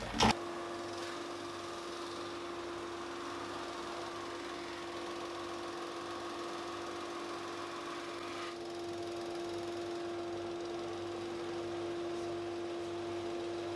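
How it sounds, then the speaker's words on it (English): A power sander runs steadily over a glued-up walnut, maple and Australian hardwood chess board blank, a constant close mechanical whir with a steady tone, shifting slightly partway through. "I'll whack it with the sander a couple of times just to really flatten it off"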